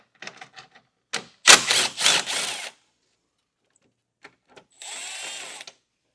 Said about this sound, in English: we can remove these 10mm bolts that are holding our grill in place